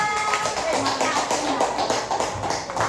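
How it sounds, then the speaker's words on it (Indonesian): A classroom claps for a student group during a teaching session, a brisk burst of many hands close by, with voices mixed into the clatter. "Tepuk tangan dulu untuk kelompok 2."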